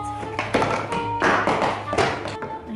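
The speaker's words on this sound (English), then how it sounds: "I knocked over my little Jacob and my Queenie." Small wooden figurines knocked over on a table, a quick series of light taps and hollow thunks clattering together at close range.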